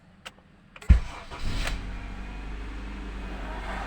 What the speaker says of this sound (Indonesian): Kita coba untuk starter mesinnya.